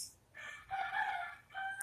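A rooster crows once in a drawn-out, rising then falling cock-a-doodle-doo, fairly faint and close, with no talk over it.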